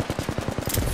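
Enemy automatic gunfire in Apex Legends, a quick close burst of roughly ten evenly spaced shots in under a second.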